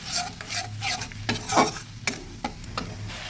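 Ground spices sizzle and fry in a pan for a fish curry, with repeated scraping strokes of a spatula stirring them in an uneven rhythm over a steady hiss, close and moderately loud, with no voices.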